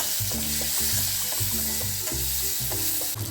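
Soaked cashews sizzle steadily in a frying pan with oil, a close, continuous crackle, while a spoon stirs them in repeated scraping strokes.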